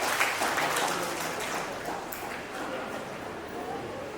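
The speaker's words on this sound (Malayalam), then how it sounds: "എല്ലാവരും കയ്യടി കൊടുക്കാം." An audience at a family association gathering gives a round of applause, a dense wash of clapping that is loudest at first and then slowly thins.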